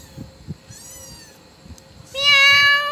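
A cat gives two drawn-out meows, the second louder and longer, close by over a quiet background with faint tapping.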